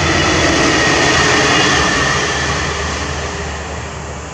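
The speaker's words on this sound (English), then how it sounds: "There comes a train, fifth one." A train rumbles past with a steady, broad roar that slowly fades toward the end, with no voices.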